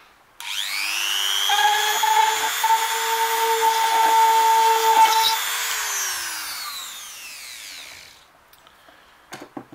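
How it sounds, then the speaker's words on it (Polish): A power drill bores through a plastic Ferrero chocolate box, a loud close whine that spins up, holds steady with rough grinding bursts as the bit bites, then winds down, followed by a few small clicks. "Udało nam się to wywiercić, przewiercić."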